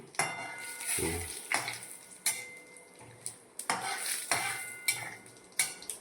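A metal spoon stirs a tempering of spices and asafoetida in a pan over a low gas flame, giving repeated sharp clinks and scrapes against the pan over a soft sizzle, close and without talk.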